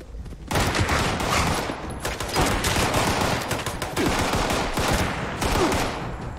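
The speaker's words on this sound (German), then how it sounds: "Schießt du etwa auf mich?" Bursts of rapid automatic gunfire from the Fallout 76 video game crackle loudly and almost continuously, with sustained rattling volleys and brief gaps between them.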